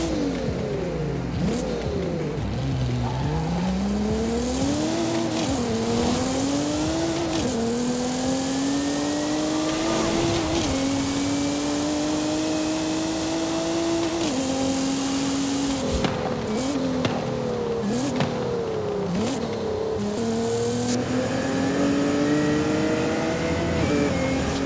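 Nissan GT-R 3.8-litre twin-turbo V6 swapped into a car in Forza Horizon 5, revving hard through repeated upshifts with rising and falling engine pitch, loud and continuous with no talk.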